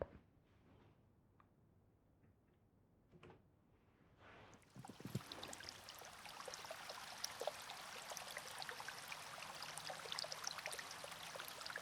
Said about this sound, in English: It's water sounds, a river, pouring, anything like that.